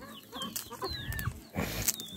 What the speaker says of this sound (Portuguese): E esse galão aí, esse índio, que cor que é esse galo, Vitória?